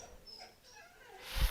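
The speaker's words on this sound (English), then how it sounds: "My dog has to go out." A dog whimpers and yips briefly to be let outside, a short faint whine followed by a louder close burst at the end, with no talking.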